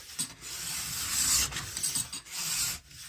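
A file-type edge tool scrapes along the steel edge of a 2026 HEAD SL FIS 165 cm ski in a few rasping back-and-forth passes, close and loud, with short pauses between strokes.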